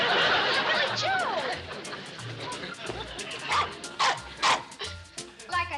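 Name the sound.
dog barking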